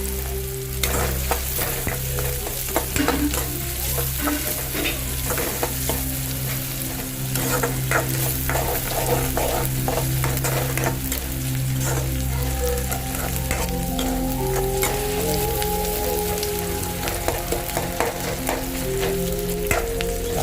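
Small shallots frying in oil and being stirred in a pan, a loud, continuous sizzle with frequent scraping and clattering strokes of a spatula throughout.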